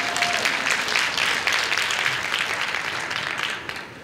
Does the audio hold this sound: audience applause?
yes